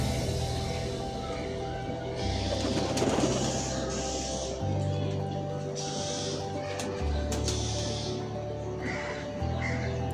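Pigeons coo steadily while pecking at scattered wheat, with chickens feeding nearby and crow-like caws breaking through now and then over a constant low hum close at hand.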